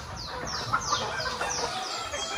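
Chickens cluck at a Philippine chicken farm, several soft, repeated calls close by over a steady low background hum, with no talk.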